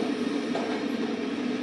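A train cab runs steadily on the Leeds to Manchester Victoria line, giving a constant mid-range rumble and hum with no breaks.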